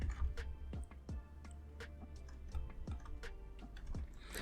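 Computer keyboard keystrokes during 3D modeling in Blender, a close, irregular run of crisp taps and clicks at a fairly steady pace, heard alone with a low hum underneath.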